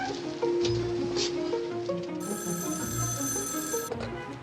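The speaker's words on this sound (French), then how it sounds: "Nouveau coup de téléphone." An old-style telephone bell rings in a steady electric trill for about two seconds, moderately close, over soft rustling, rain-like background noise.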